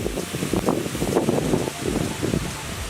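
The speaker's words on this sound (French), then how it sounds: "On a le vent qui se lève, écoutez." Wind gusting outdoors near a pond in the countryside, a rustling, buffeting rush of air against the microphone that swells and eases over a few seconds, with no talk.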